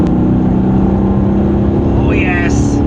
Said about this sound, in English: that was a drop to fourth. So it's the six-speed ZF gearbox, dropped to fourth, just accelerated, not even foot to the floor